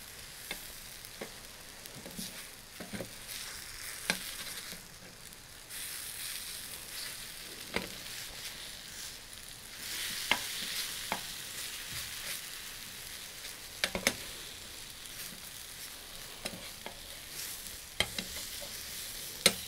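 Vegan scrambled-egg substitute frying in a pan outdoors, stirred with soft scraping taps over a steady sizzle, with sharp clicks of the utensil against the pan recurring throughout.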